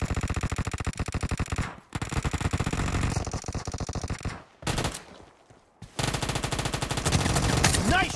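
Automatic weapon fire in the PUBG battle royale game, sustained loud bursts of rapid machine-gun shots with brief pauses between volleys, up close and dense.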